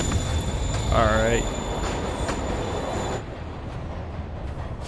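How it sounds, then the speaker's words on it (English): A train in Marvel's Spider-Man rolls along with a loud, constant rumble, and a sharp, wavering wheel squeal rises near the start. A voice speaks briefly before the rumble eases slightly toward the end. "Train moving."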